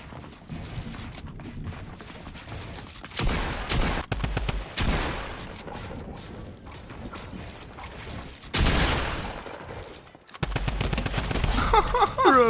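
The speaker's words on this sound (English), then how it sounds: "Bro, the Tommy gun is back." A Tommy gun in Fortnite Chapter 2 fires long, loud automatic bursts with brief gaps and mechanical clatter, and a player speaks now and then.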